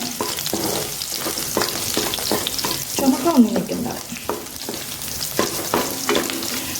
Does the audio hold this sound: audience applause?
no